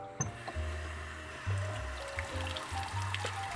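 Tap water gurgles and trickles unevenly through an aquarium water-change hose, with low sputtering pulses and small clicks, fairly quiet and close.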